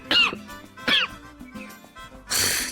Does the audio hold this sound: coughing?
yes